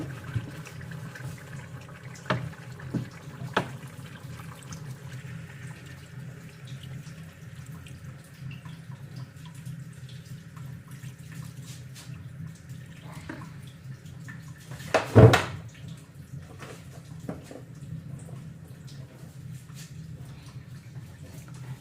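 Water is poured into a pot of mutton kosha curry, a steady running trickle over a low kitchen hum, with one louder splash near the middle.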